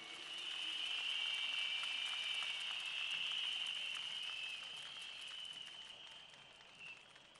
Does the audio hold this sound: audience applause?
yes